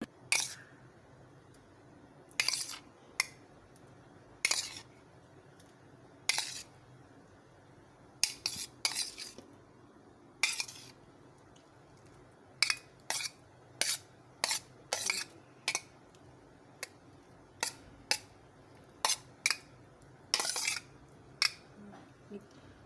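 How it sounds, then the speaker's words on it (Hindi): A spoon clinks against a bowl while stirring chamcham sweets and banana pieces into doodh dullari, a milky home-made sweet dish: a long run of sharp, close metallic taps in irregular clusters over a quiet background. "इसमें चमचम मिला रही हूँ।"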